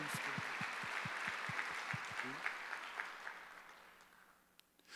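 A church congregation at a Sunday worship service claps, starting with a few rhythmic beats under a broad wash of applause that gradually thins and fades out, fairly quiet and distant.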